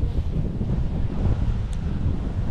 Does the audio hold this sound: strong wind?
yes